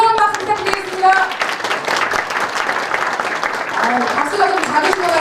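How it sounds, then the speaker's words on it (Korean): A crowd at a Korean political rally applauds warmly as honorees are invited forward before a national flag: dense, sustained clapping with voices speaking and calling out over it throughout. "뜨거운 박수 부탁드리겠습니다"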